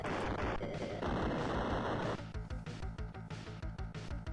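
Rapid cannon fire in the After Burner arcade game shooting down missiles, a dense continuous burst that shifts into a pulsing stream of quick repeated shots, loud with no talking.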